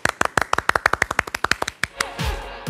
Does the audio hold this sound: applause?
yes